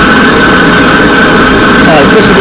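A homemade gas forge burner roars steadily as swirling gas burns, a loud continuous rushing hiss with a constant tone, close and unbroken throughout.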